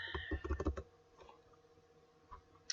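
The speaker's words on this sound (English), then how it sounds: "And like I typed in" A quick burst of keystrokes on a computer keyboard, close and fairly quiet, followed by a few scattered clicks in a hushed room.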